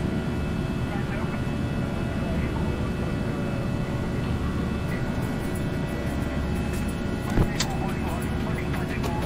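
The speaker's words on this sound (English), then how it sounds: "Look at that, reversers open before the nose touchdown." A simulated Airbus A320 rolls out after landing with thrust reversers deployed in X-Plane 11, producing a steady, dense engine roar with a brief sharp thump partway through.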